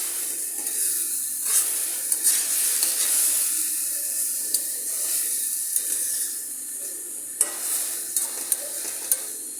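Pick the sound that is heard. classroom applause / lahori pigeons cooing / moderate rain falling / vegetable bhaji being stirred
vegetable bhaji being stirred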